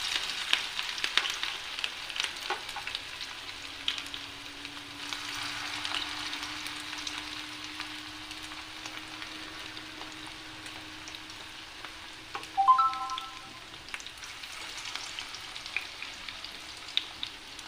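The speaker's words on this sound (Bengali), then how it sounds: "এপিট ওপিট করে সুন্দর করে আমি এটাকে ভেজে নেব।" Small batches of grass shrimp fritters fry in hot oil in a pan, giving a soft, even sizzle and crackle that runs steadily throughout, with no voices.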